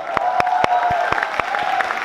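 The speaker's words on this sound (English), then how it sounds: "Big round of applause for Evangeline and Paul." An audience claps at a press conference for a film premiere event in a hotel in Taiwan, a steady wash of applause with distinct sharp claps over crowd murmur, fairly close.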